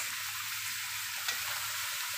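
Shrimp browning in a hot pan, seasoned with garlic and garlic powder, give off a steady, even sizzle of frying that holds at a moderate level, with one brief louder crackle partway through and no voices.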